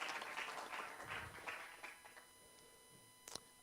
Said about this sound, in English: Can you please give Dr. Mafu a big round of applause as he comes to the front?